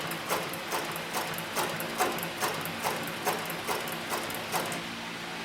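A leather arm sewing machine on a servo motor stitches slowly with a size 328 needle, producing evenly spaced mechanical clicks about twice a second over a faint motor hum, close and alone.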